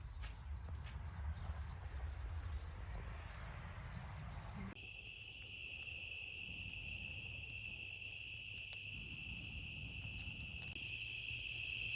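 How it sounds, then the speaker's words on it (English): A cricket near a barn gives rapid, regular chirp pulses, fairly loud and close, for several seconds before stopping, leaving a quiet background with a thin steady high whine. "Cricket."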